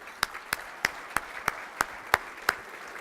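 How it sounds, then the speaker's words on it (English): Applause for sponsors at an anniversary lunch comes through faint and thin, a handful of evenly spaced claps ticking along in a steady rhythm over quiet room tone. "Can we give them a round of applause?"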